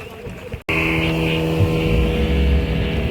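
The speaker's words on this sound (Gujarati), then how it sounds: "આપણું બોટ ચાલુ થઈ ગયું છે" A motorboat engine droning steadily after a brief cutout, a constant low rumble with a whining hum, loud and close.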